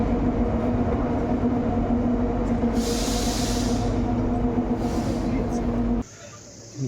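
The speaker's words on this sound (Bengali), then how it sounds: "আমাদের ট্রেন এসে পৌঁছালো আমাদের এই টয় ট্রেনের গন্তব্য স্টেশন সিমলা স্টেশনের 2 নম্বর প্ল্যাটফর্মে।" The Kalka–Shimla toy train arrives at platform 2 of Shimla station with a steady, close rumble, broken by two short bursts of hissing air before the sound cuts off.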